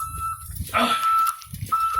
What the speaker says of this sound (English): So you can hear the backup beeper going on.